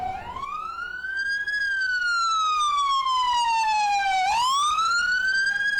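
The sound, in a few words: ambulance siren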